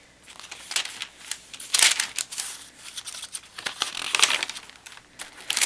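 Sheets of tracing paper crinkle and rustle while being handled for a handmade journal, with irregular crisp crackles and sharper snaps close by, rising and falling without talking.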